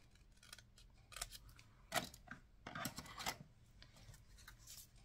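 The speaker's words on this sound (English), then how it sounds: "Let's just get this pair of scissors and see if I can cut a bit better." Scissors snip through paper and cardstock while embellishment clusters are made for a handmade card, giving a few quiet, separate cuts and rustles spread across a hushed indoor room.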